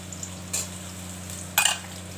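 Onions and green chillies frying in hot oil for chilli chicken, a low steady sizzle marked by two brief stirring scrapes, quiet and close, with no talking.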